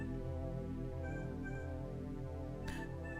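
Cat meowing in a horror video game, a few drawn-out tonal cries over a dense, droning game soundscape, with a brief noisy burst near the end.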